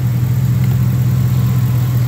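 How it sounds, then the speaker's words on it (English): A 2010 Chevy Silverado pickup idles with its hood popped open, giving a loud, close, steady low engine hum that stays even throughout with no talk. "the engine running so you can hear it"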